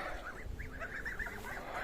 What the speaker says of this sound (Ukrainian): А ось у гусенята.